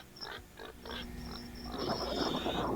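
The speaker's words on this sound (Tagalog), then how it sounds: "Ay, si baboy." A pig grunts and snorts in a low, rough run of short bursts, with a louder, busier stretch toward the end against steady background noise.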